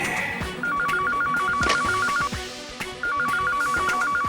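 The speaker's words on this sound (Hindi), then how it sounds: "लेकिन बेल तो बज रही है। क्या कोई दूसरा फोन भी है सर?" A telephone rings with a rapid trilling bell in two bursts, separated by a short pause, fairly close and clear.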